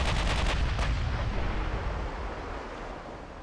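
Naval artillery in the warship game Ultimate Admiral Dreadnoughts, a heavy booming salvo with a rapid rumbling burst of blasts that rolls off into a low fading rumble, loud and alone.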